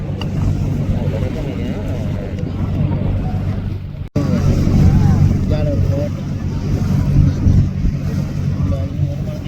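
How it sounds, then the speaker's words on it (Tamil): Passenger boat motoring toward Katchatheevu island gives a steady low engine drone with wind and water wash rushing past a close microphone, while a voice talks over the continuous noise. "இதில் பாருங்க பொதுமக்கள் படகு போகுது பாளையத்துக்கு"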